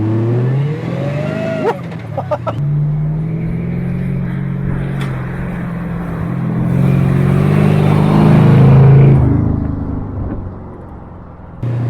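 An Anadol fitted with a 5.7-litre, 330-horsepower V8 idles loudly nearby, then the engine is blipped and revved up in a rising roar before settling back to a steady rumble.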